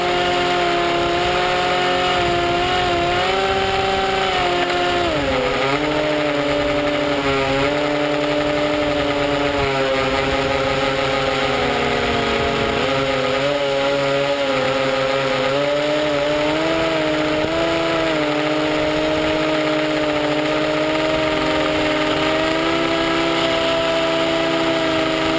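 An RC hovercraft runs outdoors with a loud, continuous high-pitched motor whine whose pitch rises and falls as it moves, with wind buffeting underneath.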